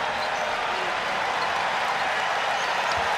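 A dense, steady wash of crowd applause and cheering fills an arena at a Kentucky versus Missouri college basketball game, with no break in the noise.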